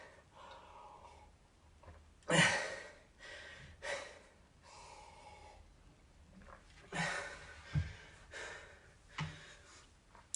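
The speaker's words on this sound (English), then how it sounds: "I'm so out of breath." A person breathes heavily after a family HIIT workout set, with loud gasping inhales and huffing exhales several seconds apart, close and otherwise quiet.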